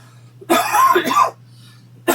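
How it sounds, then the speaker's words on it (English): A short burst of coughing or throat clearing lasting under a second, fairly close, followed by quiet and a brief sound at the end. "I'm going to cough."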